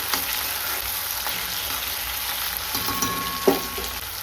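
Cloves and cinnamon sauté in a pan for chicken biryani masala, a gentle, continuous sizzle close by, with occasional light scrapes and one sharper utensil clink partway through.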